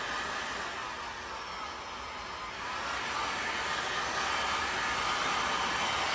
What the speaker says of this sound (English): This is a newer heat gun.